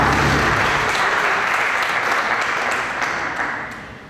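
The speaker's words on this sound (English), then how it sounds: "Daddy Don Garlits, a round of applause." A crowd at a drag racing event gives a round of applause for Big Daddy Don Garlits, loud, dense clapping that holds steady and then tapers off toward the end.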